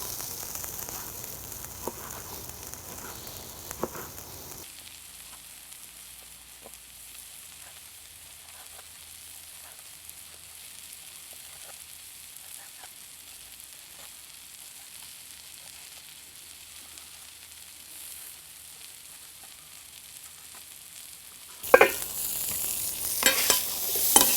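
Strips of vegetables frying in a pan, a steady sizzle throughout, with quieter stretches in the middle and louder stirring bursts near the start and end.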